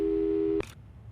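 Phone busy signal from the video game Portal 2: a single steady electronic tone held for about half a second, then cut off, leaving quiet background.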